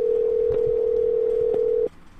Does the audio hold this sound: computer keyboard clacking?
no